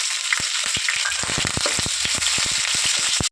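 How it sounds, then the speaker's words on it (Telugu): Onions fry in oil, sizzling and crackling steadily, with frequent sharp pops and spatters throughout, close by and without any talking. "ఉల్లిపాయలు బాగా కొంచెం బాగా వేపుకోండి"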